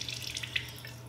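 Water squeezed by hand from a beauty blender makeup sponge soaked in baking soda and water, a brief wet trickle and dribble over a low steady hum.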